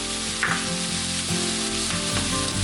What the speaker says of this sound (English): while the onions are getting fried up